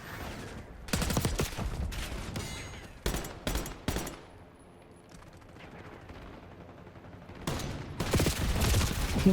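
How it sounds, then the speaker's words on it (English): Gunfire in a Black Ops 6 gunfight: loud bursts of automatic fire in several volleys, with a lull in the middle before heavy shooting resumes near the end. "I might have actually won that gunfight"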